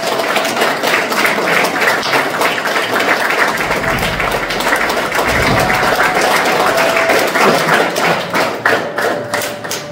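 An audience at a sixth-anniversary stage event applauds to welcome a guest, producing loud, sustained, dense clapping with some heavier thuds mixed in, continuing steadily throughout.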